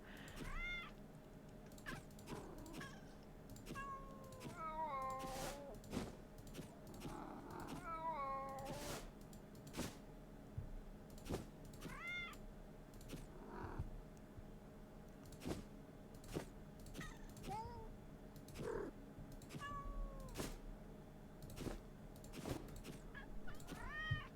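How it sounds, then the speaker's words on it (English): A cat in the Finding Cats game gives a long series of meows, some clustered and some spaced apart, mixed with frequent sharp clicks over a low, quiet hum. "Little kitty peeking in the window."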